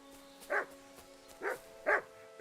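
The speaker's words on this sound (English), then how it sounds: "Oh shit, wild dogs." Wild dogs in Kingdom Come Deliverance 2 bark three times in sharp, spaced yelps, moderately close over a quiet ambient hum, with no talking.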